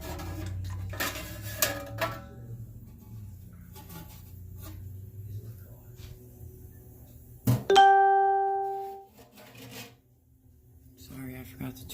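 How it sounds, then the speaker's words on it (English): A phone notification bell chime rings out clearly in a busy home kitchen, a single bright ringing tone that decays over about two seconds after some clattering of dishes and handling noises. "Sorry, I forgot to turn my notification bell off."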